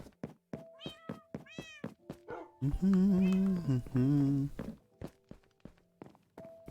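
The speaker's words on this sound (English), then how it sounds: "cat noises get too loud while we're in here." Indoors, a cat gives a quick series of short meows, then two long, loud, drawn-out yowls, then more brief meows, close to the microphone with soft footsteps between calls.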